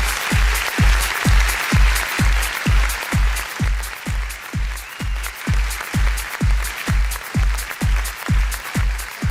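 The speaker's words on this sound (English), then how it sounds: "A big round of applause for the long-serving senior employees of Vijay Marie Hospital and Institution." Audience applause for long-serving senior employees at a hospital jubilee celebration, steady rhythmic clapping in unison over a regular thumping beat, continuous and fairly loud throughout.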